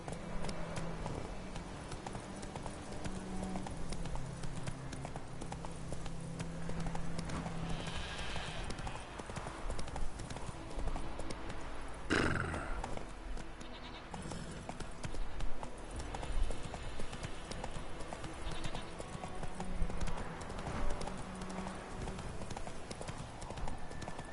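Horse hooves clip-clop steadily along in The Witcher 3: Wild Hunt, a continuous rhythmic trot with scattered game sounds and a sharp clatter midway.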